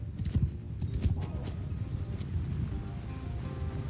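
Horses gallop across a battlefield in the Bannerlord video game, a steady rumble of many hoofbeats that runs through the whole stretch with no voices.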